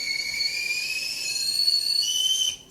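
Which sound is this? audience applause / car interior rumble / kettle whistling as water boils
kettle whistling as water boils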